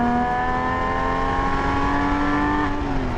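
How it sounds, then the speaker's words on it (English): Porsche 997 with a sports exhaust holding a steady, loud engine drone with strong tonal harmonics, the pitch easing down slightly near the end, close and without talk. "the sound of the 997 sports exhaust, to me, sounds better than all of them"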